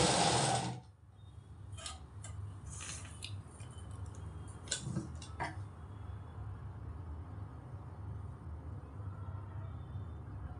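A sewing machine stitches a blouse sleeve, a faint, steady whirring run with light ticking and a few soft handling clicks near the start, quiet and close.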